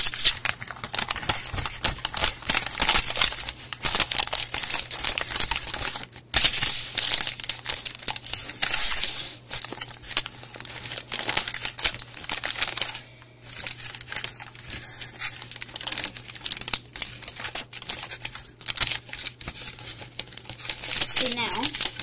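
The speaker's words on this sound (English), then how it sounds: "So this is a mountain fold, valley fold, mountain fold. We're going to repeat that all the way around." Sheet of paper being folded into alternating mountain and valley pleats for an origami scooter, with steady close crinkling and creasing rustles throughout, a faint hum beneath, and brief gaps between folds.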